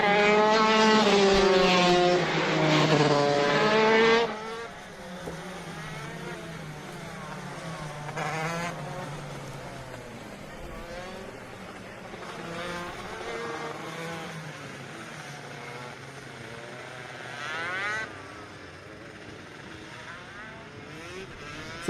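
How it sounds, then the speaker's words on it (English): Racing karts circle the Sonoma Raceway kart track during a ROK race, engines droning at a steady distance, loudest in a close pass at the start and then fading into a continuous mid-level roar with rising and falling passes. "bringing the karts around the track"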